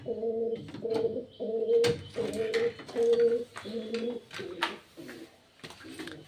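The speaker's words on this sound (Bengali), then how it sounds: "দেখছো কবুতর কিন্তু বুঝে গেছে আমি আসছি।" Pigeons coo inside a handmade pigeon house, with a steady run of low, close, rhythmic coos repeating one after another and a few faint knocks between them.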